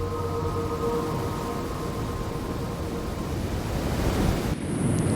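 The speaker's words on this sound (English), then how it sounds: "the calm and placid sea right here at our doorsteps" Calm sea waves on the Guyana coast make a steady, soft surf wash with wind noise and a faint tonal hum underneath, and no voices.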